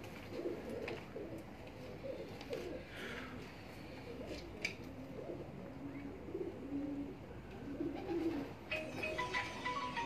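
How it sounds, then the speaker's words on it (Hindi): Pigeons on a Punjab rooftop loft keep up a continuous, low, layered cooing, with a few faint higher chirps and no voices. "देख लें ये कौन सा कबूतर है"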